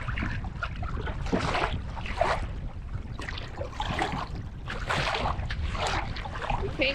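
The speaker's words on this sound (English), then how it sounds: "it's a little windy out here" Wind gusts over open water on a canoe trip, a steady broadband rush that swells and fades in waves, with no voices.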